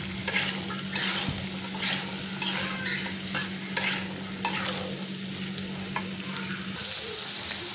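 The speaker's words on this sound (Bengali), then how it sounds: "আলুগুলো একটু ভাজা ভাজা হতে থাক।" Potato pieces fry in hot oil with turmeric in a pan while being stirred, giving a steady close sizzle broken by repeated scraping and clattering strokes of a spoon.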